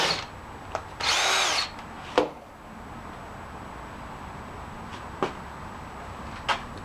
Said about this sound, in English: Just use a test piece, drill a hole in here just to see if it'll make a tighter fit.